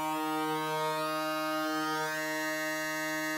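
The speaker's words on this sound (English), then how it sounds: "You're hearing the oscillator wave modulate the playhead position." A SKANNER synth holds a dense, bright sustained tone while an oscillator modulates its playhead position, giving a subtle wavering shimmer across the whole stretch without any voice.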